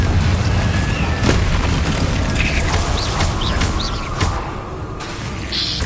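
Confringo explosion spells go off during Hogwarts Legacy combat, a dense, loud stretch of booming blasts mixed with mechanical clatter and creaks that runs the whole length.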